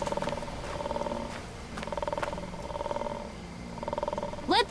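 A low, rhythmic purring or snoring sound plays from a tape in the Road 96 video game, with repeated rumbling pulses under faint background tones and a brief higher squeak near the end.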